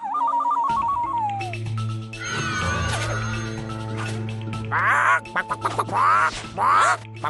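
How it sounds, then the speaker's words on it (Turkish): A bird-call whistle plays a short rising tune, then a steady tone drones while duck-like quacks burst out in several loud, choppy calls toward the end. "İşte mükemmel bir kuş ıslığı."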